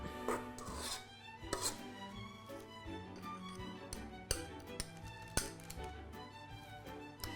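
Two spoons scoop and drop meringue mixture, giving a run of close, irregular taps and light clinks against the bowl and tray.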